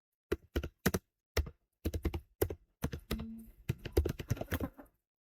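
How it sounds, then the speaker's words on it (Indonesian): Keystrokes on a computer keyboard as a password is entered, a burst of sharp clicks in uneven rhythm, close and clear with no talking. "Kita masukkan passwordnya."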